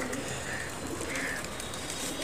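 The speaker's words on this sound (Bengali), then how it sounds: "এগুলো হচ্ছে আমার বড় ভাইয়ের কবুতর" Pigeons coo on a rooftop, soft low repeated calls over a steady close background hiss.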